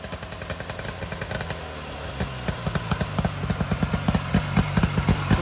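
A 1968 Ski-Doo Super Alpine 370 snowmobile engine runs close by, its rough, clattering two-stroke idle rising into a quicker, louder pulsing rhythm as it picks up toward the end.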